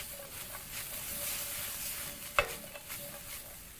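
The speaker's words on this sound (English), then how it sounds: "Proceed to toss everything together. Making sure to coat the onions and the meat more evenly." Beef and onions sizzling as they are tossed in a hot pan, a steady frying hiss with stirring scrapes and one sharp clack of utensil against the pan, without talking.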